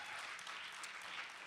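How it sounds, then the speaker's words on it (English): Audience applause at a student media awards show, a dense, even patter of many hands clapping, fairly faint and continuous through the brief moment. "Give yourselves a round of applause for what you've done."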